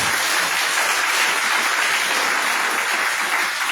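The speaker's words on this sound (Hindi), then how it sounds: "जोरदार तालियां।" Loud, sustained applause from a church congregation during a service, dense steady clapping filling the whole stretch with a faint voice beneath.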